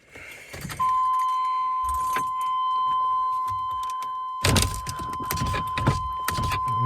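Keys jangle and click as they go into a pickup truck's ignition, followed by a sustained electronic chime and further rattling of the keys, all heard close up.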